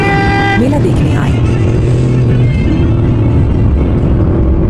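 Cars of wealthy merchants arrive at a village fair: loud engine rumble with horn toots near the start, continuous and close.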